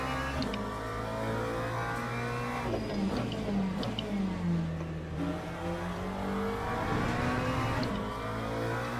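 McLaren race car from Le Mans Ultimate, a continuous loud engine note rising and falling through revs and gear changes across a mid-speed corner, steady and close throughout with no talk.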